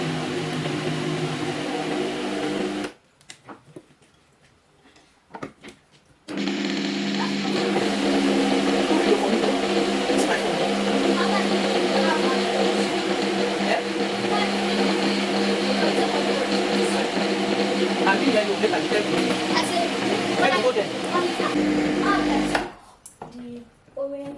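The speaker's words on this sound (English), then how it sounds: "We are going to be blending the second batch." A blender whirs steadily while blending carrots into a smooth paste for a Nigerian carrot stew; after a brief start and a pause the motor runs loud and continuous for nearly twenty seconds, then stops.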